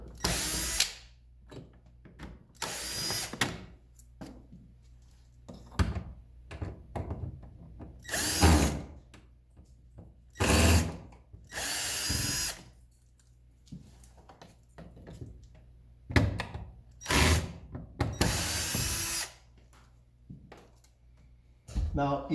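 Cordless power drill backing Phillips screws out of a 2001–2005 Honda Civic door panel, short whirring bursts repeated several times with pauses between, loud and close, mixed with speech.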